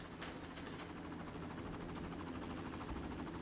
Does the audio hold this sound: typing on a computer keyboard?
no